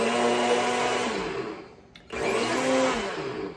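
A Magic Bullet blender grinds sugar, baking cocoa and instant coffee granules, a loud steady motor whir that drops out briefly near the middle and then starts up again.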